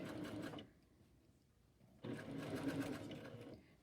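A sewing machine stitches a sleeve seam in two close, steady runs of whirring needle motion separated by a quiet pause, with no talking.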